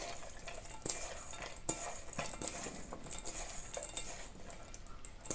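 Salted mung bean sprouts being mixed by hand in a bowl, giving soft irregular wet rustles and clicks at a close, moderate level with no talk.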